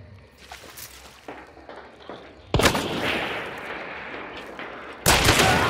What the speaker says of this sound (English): somebody's got a shotgun north of me